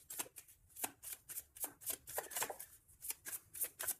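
Tarot cards are shuffled and drawn by hand, making a rapid, crisp run of riffling flicks and slaps, close and fairly quiet with no talking.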